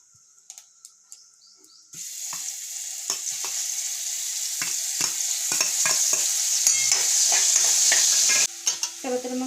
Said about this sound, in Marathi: मग आता तेल गरम झालं की त्याच्यामध्ये आपण थोडं जिरं मोहरी टाकूया.